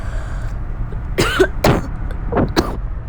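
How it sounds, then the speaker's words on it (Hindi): Someone coughs a few short, sharp bursts during a Truck Masters driving game, with steady low engine rumble underneath. "खांसी आ गई थी।"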